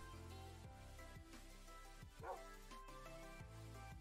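A dog or wolf in the Minecraft video game gives a few short yips and barks in a quick, uneven series, fairly close, with faint game sounds behind.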